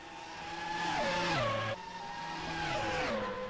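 Formula One race cars in a video game, engines screaming at high pitch along a straight, with a sharp gear-change drop midway and then a rising, steady whine as they keep accelerating, loud and close.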